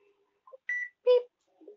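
A few short electronic beeps from a checkout barcode scanner in a video game, sparse and clean against silence, one brighter tone standing out, with a faint low blip at the end.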